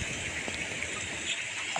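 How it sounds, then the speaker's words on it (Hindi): Steady rushing rainwater flowing toward a waterfall, a continuous broadband wash, moderately loud and unbroken for the whole moment. "बारिश का पानी उधर से आ रहा है"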